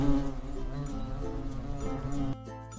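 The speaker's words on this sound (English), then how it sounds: "Hornets are giant buzzing wasps." A hornet, a giant wasp, gives a steady, deep droning buzz that stays close and fairly loud, then drops to a quieter hum near the end.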